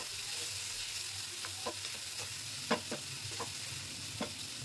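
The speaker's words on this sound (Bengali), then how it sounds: "পেঁয়াজ এদিকে ভাজা ভাজা হয়ে গেছে," Onions fry in a pan while cooking a prawn bhuna curry: a constant low sizzle with several sharp spatula scrapes and taps against the pan, close by, with no voices.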